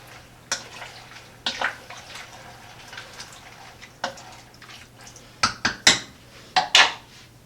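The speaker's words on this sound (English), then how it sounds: "then just simply give it a stir" A spoon stirs beans and about six cups of water in a crock pot set outside, giving scattered clinks and scrapes against the pot, sparse at first and then quicker and louder clattering toward the end, with no talking.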